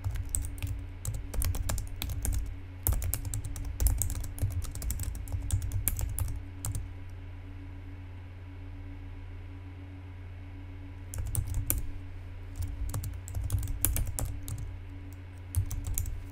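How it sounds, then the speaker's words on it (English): Someone types on a computer keyboard in bursts of rapid clicking keystrokes, close and clear, with a pause of quiet in the middle before the clatter resumes. "I can't type and talk at the same time"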